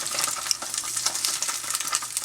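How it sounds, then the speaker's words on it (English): Tofu pieces frying in a pan for BBQ tofu sandwiches, giving a steady dense sizzle with crackling pops throughout, close and fairly loud, with no voices. "you want to let this fry for about 4 to 5 minutes until they're browned"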